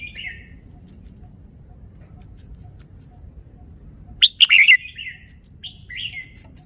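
A red-whiskered bulbul sings in a Thai songbird setting, giving a few short bright chirping phrases, one burst louder and more clustered mid-way, over a low background hum with no talking.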